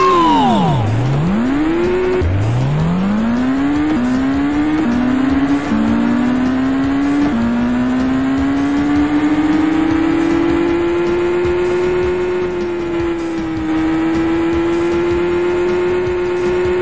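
Race car engines roar and rev in the Whiplash video game, a loud, close, continuous drone that dips and climbs through repeated gear shifts as the cars accelerate.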